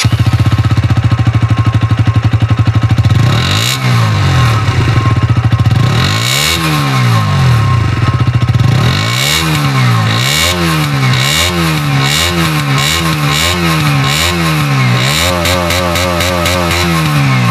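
A KTM Duke 125 motorcycle engine buzzes loud and close, first idling steadily, then revving and climbing repeatedly through the gears with rising and falling pitch as it rides.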